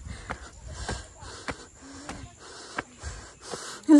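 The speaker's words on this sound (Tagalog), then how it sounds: "Kahit hinihingal." Heavy, rapid panting from a person hiking fast uphill on a muddy trail, a close series of harsh breaths roughly every half second, loud and strained throughout.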